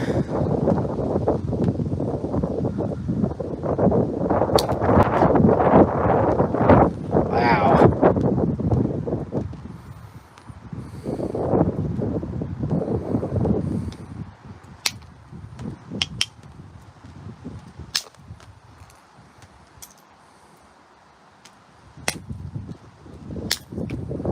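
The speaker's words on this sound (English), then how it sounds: "Big gust of wind again." Strong wind gusts buffet the microphone outdoors in cold weather during flint knapping on a large boulder, a loud roaring rush that rises and falls, with sharp knapping clicks and taps scattered through the later part.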